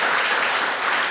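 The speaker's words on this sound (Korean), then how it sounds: "박수 한번 쳐드리세요." A church congregation claps together during a Sunday worship service, a short burst of dense, loud applause with no talking.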